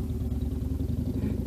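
A motorcycle engine drones at moderate distance with a steady low rumble, fairly faint and continuous over the short stretch, no talk.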